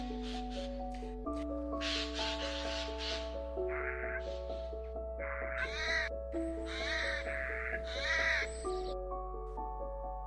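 A Eurasian jay, the colourful member of the crow family, gives several harsh, raspy screeching calls in Irish woodland near Abbeyleix Bog, heard in short bursts over steady background musical tones.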